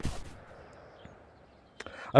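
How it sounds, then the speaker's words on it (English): Gunfire in the shooter game Ghost of Tabor cracks in a few scattered, fairly distant shots across a quiet stretch, with a louder burst at the very end. "Okay, gunshots inside, gunshots over there."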